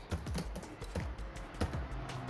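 Keys clack on a computer keyboard as the command msinfo32 is entered, a quick uneven run of close, crisp taps with no voices.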